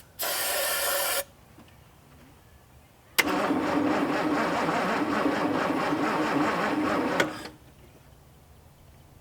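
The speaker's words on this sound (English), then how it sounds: "Spray a little bit in here, see if that'll fire off at least anything." A brief sharp hiss of starting fluid sprayed into the engine of a Mustang Cobra abandoned for 27 years, then a pause before the engine cranks loudly and steadily for several seconds without starting and stops.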